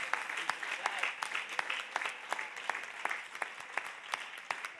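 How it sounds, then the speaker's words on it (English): A church congregation claps in praise during a sermon, brisk rhythmic clapping from many hands at moderate distance, with sharper claps punctuating a continuous patter. "Let's clap our hand and give God praise for that."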